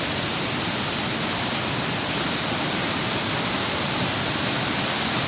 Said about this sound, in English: a real nice close-up of these falls and rapids right above the falls